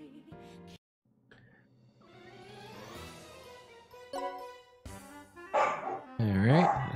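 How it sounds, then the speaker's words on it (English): A dog barking in the background, a few sharp barks and yips mixed among game music and sound effects. "sorry for the dog barking in the background."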